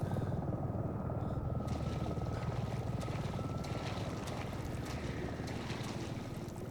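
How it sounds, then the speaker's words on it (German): A helicopter in the video game Resident Evil 7, a steady close rotor chop with a constant whine, thudding on without a break and loud, with faint speech briefly underneath. "Ein Helikopter."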